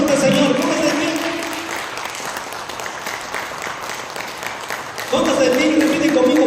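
Church congregation applauding inside a sanctuary, a thick sustained clapping from many people heard under amplified voices and tonal music that fade in the middle and swell back near the end.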